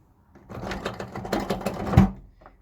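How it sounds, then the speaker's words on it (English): Rapid ratcheting clicks of a handle being cranked to open the roof fan vent in a 2017 Airstream Sport 22FB travel trailer, close and steady for about two seconds, with no talk. "If you open it up, spin the handle to open it"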